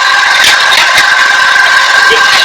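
A Jaguar motorcycle engine idles close by with a steady, loud mechanical drone and a light rattle, running unbroken from start to end.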